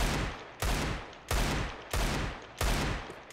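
Rapid gunfire blasts from a shooting video game in loud, heavy bursts, about five booming volleys spaced roughly two-thirds of a second apart, each decaying before the next, with no voices.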